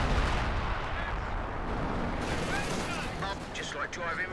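Howitzer artillery fire from a Royal Artillery battery in Company of Heroes 2, a steady barrage of booms and rumbling impacts that fills the whole stretch, with voices speaking over the gunfire.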